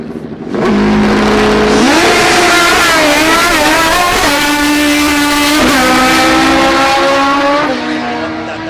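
A street motorcycle launches hard off a drag strip start line with no wheelie bar, its engine loud and close. The revs climb through several gear changes as the bike pulls away.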